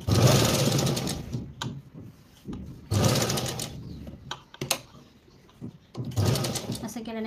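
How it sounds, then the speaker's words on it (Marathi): A sewing machine stitches a princess-cut blouse in loud, close runs of whirring stitches, three bursts separated by pauses with clicks and handling noise, while someone talks during the quieter gaps. "मोठी शिलाई सुद्धा इथे घेऊ शकता तुम्ही."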